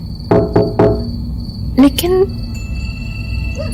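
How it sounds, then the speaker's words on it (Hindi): A few quick knocks on a window early on, then a brief creak and scrape, over a quiet background with faint insect chirping. "कोई नॉक कर रहा है।"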